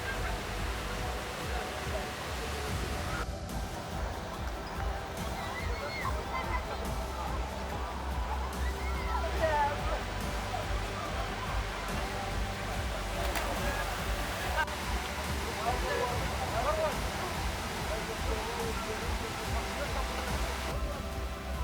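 Ouzoud waterfalls in the Middle Atlas of Morocco roar as a steady, full wash of falling water, busy with tourists and boats nearby, while crowd voices and chatter carry on over it throughout.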